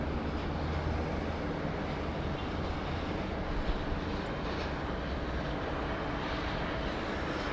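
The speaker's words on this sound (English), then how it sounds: "we see aircraft coming in over Botany Bay" Aircraft approaching Sydney Airport over Botany Bay: a steady, broad engine roar that holds at an even level throughout, with no voices.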